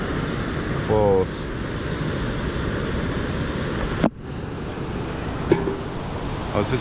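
A steady, broad roar of ocean surf on the Oregon coast near Siuslaw National Forest fills the clip, with a short voice-like sound and a few sharp knocks breaking through the constant wash.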